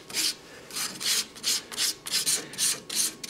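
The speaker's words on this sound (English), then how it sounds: "And I want to sand the flat of the blade." Hand sanding the flat of a wooden letter opener blade with the lathe switched off, a dry rasping rub in steady back-and-forth strokes, about ten passes, close and moderately loud with no talk.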